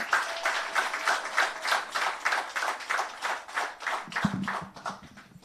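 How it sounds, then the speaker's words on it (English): Audience applause at a corporate team briefing, a steady patter of many hands clapping at an even level for several seconds before it starts to thin out near the end. "Let's give him a round of applause."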